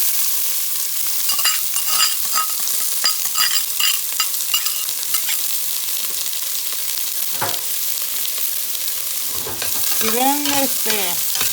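Onion frying in hot oil in a preheated pan for rajas con queso, a loud continuous sizzle with busy stirring and spatula scrapes; a brief voice speaks near the end.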